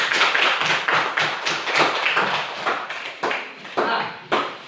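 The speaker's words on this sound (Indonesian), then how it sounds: "Oke, tepuk tangan dulu." Classroom students clapping together as a group, dense irregular applause in several surging bursts that thin out toward the end, fairly close and loud.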